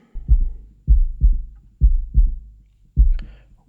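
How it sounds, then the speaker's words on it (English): Low, booming bass drum hits with snare chains, stripped to only the sub-bass thump, about six heavy hits in an uneven pattern, each with a quick attack and a short rumbling decay, close and loud with no voices. "So this is the bass drum,"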